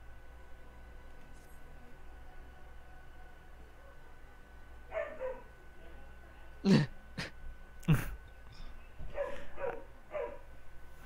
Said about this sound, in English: Probably because there's dogs barking.